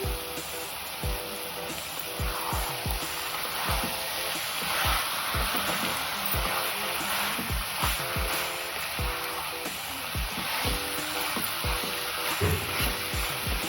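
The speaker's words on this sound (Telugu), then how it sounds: "అన్నీ వేగాక మ్యారినేట్ చేసి పెట్టుకున్న ఈ చికెన్ని వేసేసుకోవాలి. కొంచెం సేపు వేయించేసుకోవాలి." Marinated chicken fries in a pan for a chicken pepper fry, giving a steady, close sizzle with soft stirring scrapes throughout and no voices.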